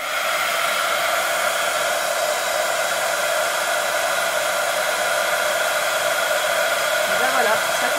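A heat gun blows hot air in a steady, loud, unbroken whoosh with a constant whine, held close for the whole stretch.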